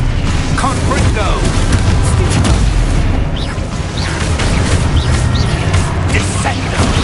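Confringo fire spell explosions in the video game Hogwarts Legacy, loud booming bursts under dense combat effects and continuous game noise, with voices shouting throughout.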